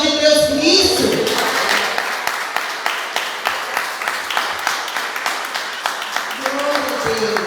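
A church congregation claps during a Portuguese-language sermon. The applause is sustained, with a steady rhythmic beat and some crowd noise, moderately loud, and a voice briefly heard at the start.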